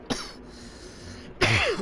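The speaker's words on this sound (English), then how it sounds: "Still got this cough, folks." Two harsh, close coughs from a man, a short one at the start and a louder, longer one near the end, with quiet room tone between them.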